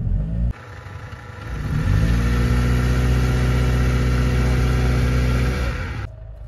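A Toyota Land Cruiser Prado engine revs hard and holds a loud, steady roar during a burnout attempt, rising after a short start and easing off near the end.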